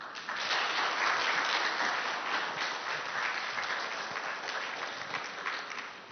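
A seminar audience at an open innovation event breaks into sustained applause, a dense, even wash of many hands clapping that swells quickly and holds steady before easing slightly, with no speech over it.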